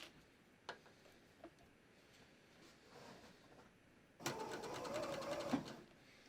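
A serger sews fabric with a 3-thread super stretch stitch, starting from the top edge. It runs as a steady, fast mechanical whir for the last two seconds, after a few faint clicks and some quiet handling.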